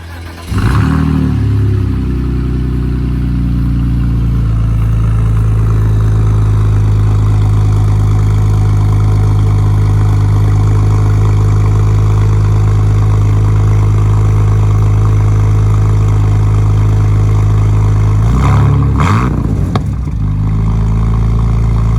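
A BMW Z3 roadster engine turns over and settles into a loud, steady, close idle, with a second start or blip near the end and no talk.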